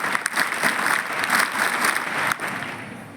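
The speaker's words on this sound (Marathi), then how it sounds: "तालियां ऐसे बजाओ कि हम सबको जोश आ जाए" A school audience applauds in a hall, many hands clapping together in a dense, steady wash with a few sharper claps standing out, loud and sustained without talk.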